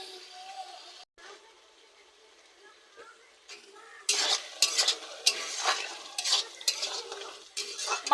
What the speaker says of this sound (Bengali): ধনে গুঁড়ো, চিনি দিয়ে আমি আবার ভালো করে 5 মিনিট কষিয়ে নেব।